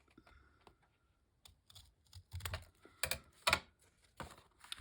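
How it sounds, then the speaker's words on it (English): Scissors cut the edge off a paper envelope, giving a string of crisp, close snipping and rustling crunches of varying loudness, with faint paper handling between the cuts. "we'll cut this edge off at the edge of the envelope"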